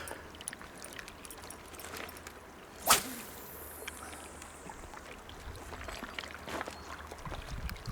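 A single sharp whoosh of a fishing rod cast, made while trout fishing at Sulby reservoir on the Isle of Man, cuts through about three seconds in over steady wind and water noise outdoors.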